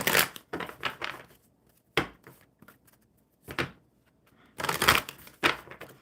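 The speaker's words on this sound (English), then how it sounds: "One more shuffle." A deck of cards is shuffled in a series of brisk riffling bursts separated by short pauses, close by and crisp, with one longer burst near the end.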